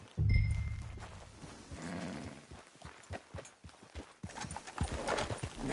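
Horse hooves clip-clopping at a walk in Red Dead Redemption 2, a steady run of close, distinct hoof knocks with a brief snort near the start and no talk.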